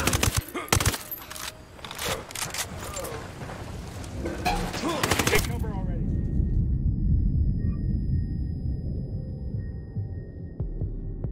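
Rapid gunfire from a firefight in Ghost Recon Wildlands, loud overlapping bursts and shots for several seconds that abruptly give way to a low, steady rumbling hum.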